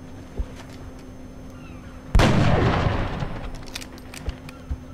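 A single loud burst of weapon fire in XCOM: Enemy Within erupts partway through, a sharp crack followed by a decaying rumble, with faint clicks and quiet background before and after.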